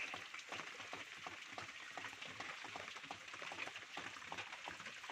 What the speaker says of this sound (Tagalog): malakas ang ulan rito sa bundok ngayon